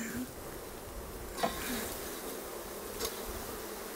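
Honey bees from a wild hive being removed from an old abandoned car hum as a steady, fairly quiet drone throughout, with a couple of brief louder bursts near the middle and end.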